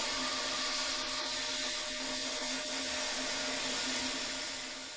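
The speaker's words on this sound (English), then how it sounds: "the best way to clean this final layer is to circle back to sandblasting" Sandblaster spraying white corundum abrasive onto a metal part from a 1940s train lamp, a continuous hissing, roaring blast that stays steady and fairly close throughout.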